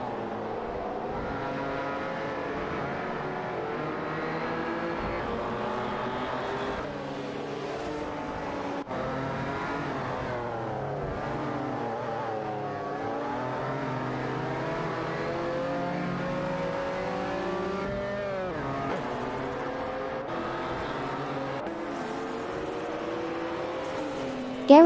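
Race cars speed down a straightaway in a racing video game, a continuous layered engine whine with pitch sweeping up and down as cars shift and pass, steady and moderately loud throughout.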